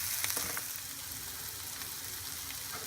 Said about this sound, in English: So the onions are cooking down nicely there.